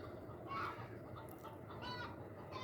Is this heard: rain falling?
no